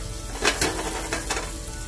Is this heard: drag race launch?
no